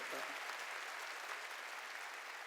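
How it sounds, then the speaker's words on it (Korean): A church congregation bursts into loud, dense, continuous applause that fills the sanctuary evenly from start to finish. "박수 치라는 겁니다"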